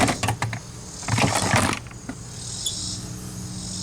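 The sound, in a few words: bumping into the camera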